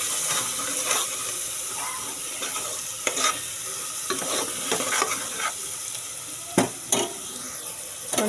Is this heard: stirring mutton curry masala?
yes